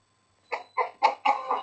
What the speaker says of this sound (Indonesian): Ayam siapa tuh?